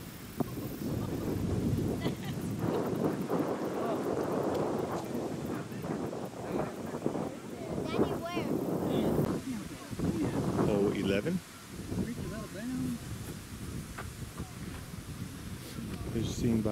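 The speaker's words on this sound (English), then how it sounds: "It's a windy day out here." Strong outdoor wind on a windy day at a disc golf course at Bishop Park, buffeting the microphone with a loud, continuous rumbling roar that rises and dips in gusts and never stops.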